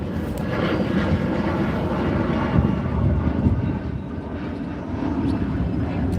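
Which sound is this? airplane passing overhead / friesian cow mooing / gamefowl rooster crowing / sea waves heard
airplane passing overhead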